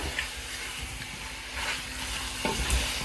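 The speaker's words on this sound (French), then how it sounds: "je rajoute l'oignon pour donner aussi un goût Et je tourne comme ça" Onion fries in a pan for chicken gizzard skewers with fresh vegetables, a steady close sizzle and hiss with scraping stir strokes and a light clink toward the end; no talking.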